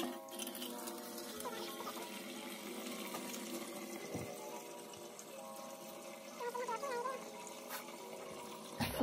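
Water runs steadily from a tap, pouring into a pet's water bowl over several seconds, with a few clunks and a brief swirl of sound near the end.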